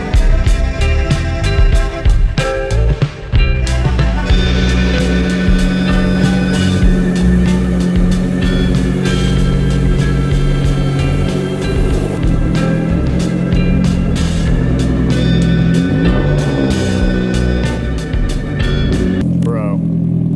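A Mitsubishi Evo X on new wheels starts and drives off, its engine rumbling loudly and close with revving surges throughout, and a person talks over the engine noise.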